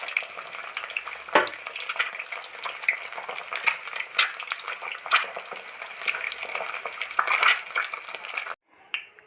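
Eggs frying in a pan with irregular crackling, popping and scraping as they are stirred and turned, moderately close, ending abruptly.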